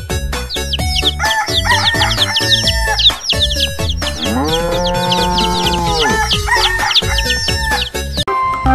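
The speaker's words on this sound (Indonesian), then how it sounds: "Ada induk ayam, teman. Ini induk ayam jago." A rooster crows in a long drawn-out call, set among repeated clucks and squawks from a hen and rooster, loud and close, within busy, densely layered sound.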